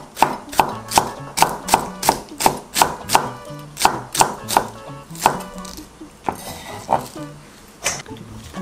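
A knife chops cabbage, washed and soaked in vinegar water, on a cutting board for a meatless dumpling filling: about a dozen crisp, evenly spaced strokes close by, then a few looser cuts toward the end.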